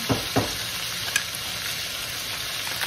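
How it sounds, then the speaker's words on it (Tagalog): Chopped garlic frying in a pan for Bicol express, a steady dense sizzle throughout with a few clinks of a spatula near the start, close and fairly loud, with no voices. "sabay-sabay silang napiprito"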